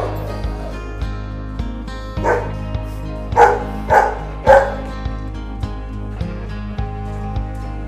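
Golden retrievers at a home where many of the breed are kept bark in a short series of sharp, fairly close woofs, clustered in the middle, over a steady low background hum.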